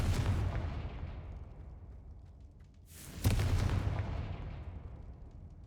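Two booming fire-spell blasts from the Confringo curse in the Hogwarts Legacy video game, one at the start and a second, louder burst midway, each dying away into a rumbling tail.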